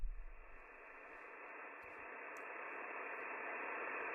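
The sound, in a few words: radio static from WebSDR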